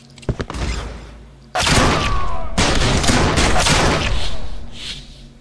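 Gunfire in the video game Sierra 7: a few quick shots, then a loud sustained burst of shooting and debris that thins out toward the end.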